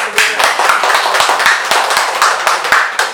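A gathering at IAIN Syekh Nurjati Cirebon, an Islamic institute, claps together in a fairly regular rhythm, with sharp hand claps landing about four times a second over a wash of crowd noise.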